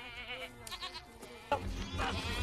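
Goats bleat near a group of three goat herders, several wavering cries overlapping in quick succession, fairly close and moderately loud, with a rough burst of noise joining partway through.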